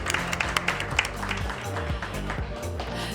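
Audience applause at a film screening event, a steady patter of clapping across the whole span with some low rumble and voices underneath.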